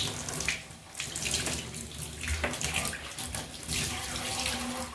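Lukewarm water pours steadily from a tap while hair is rinsed, a close continuous hissing gush with uneven splashing, no voices.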